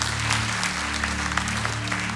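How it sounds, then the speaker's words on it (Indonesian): A church congregation claps steadily throughout, a dense, continuous wash of applause over a sustained organ or keyboard chord held underneath. "Berikan tepuk tangan buat Tuhan Yesus"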